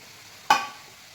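Onions and other ingredients frying in a pan over a high flame, a single sharp sizzling burst that flares up quickly and then fades into a low, steady hiss, with no one speaking.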